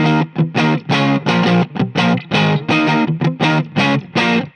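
A 2019 Fender American Pale Moon Ebony Telecaster electric guitar played through an amp with a distorted, effected tone, in rhythmic strummed chords with brief gaps between them, loud and close, with no voice.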